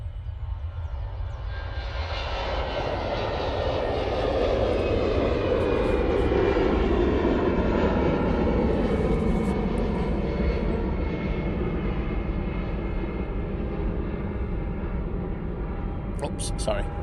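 An easyJet jet airliner departing Manchester Airport for Amsterdam Schiphol, its engines a loud sustained roar that swells up and slowly sweeps downward in pitch as the aircraft climbs away, filling the whole passage.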